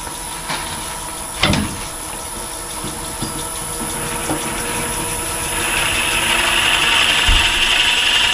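A centre finder spinning at about 700-750 RPM during a Rollester twist cap upgrade gives a steady machine drone with a rising high hiss, punctuated by a sharp clunk early on and a low thump near the end.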